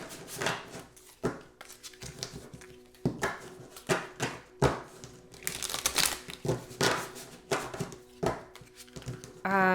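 A deck of tarot cards is shuffled by hand in a series of brisk riffles and taps, loud and close with short pauses between bursts.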